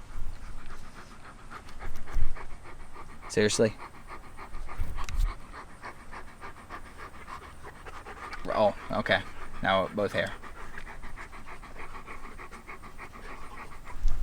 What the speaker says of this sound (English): I hope your panting is not messing up my audio